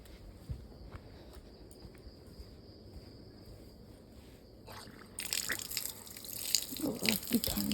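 Water splashes and pours as feet are washed outdoors in cold weather before entering a temple on Makar Sankranti morning, starting faint with crickets in the background and turning louder and splashier in the last few seconds.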